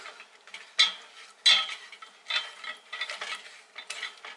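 Thickening lemon lime cheesecake filling is whisked in a pot, brisk irregular scraping and clinking strokes in bursts with short pauses between, close and fairly quiet, no talking.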